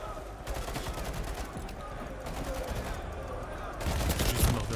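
Dense gunfire in Call of Duty Modern Warfare 3 crackles as sustained bursts of rapid shots, loud and continuous, growing heavier toward the end beneath game chatter.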